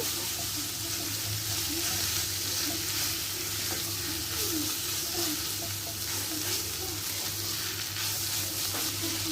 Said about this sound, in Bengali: ময়দাটাকে চিকেনের সাথে খুব ভালো করে একটু ভেজে নেব